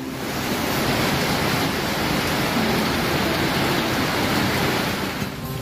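Heavy typhoon rain pours down in the Philippines in a dense, unbroken roar, loud and close, with a faint gusty rush and no voices.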